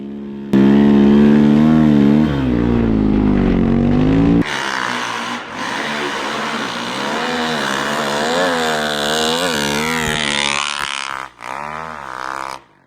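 A 2023 Timbersled Aro3 Gen2 snow bike with a Honda engine and belt drive revs loudly and close, its pitch climbing and falling in repeated surges before easing off at the end.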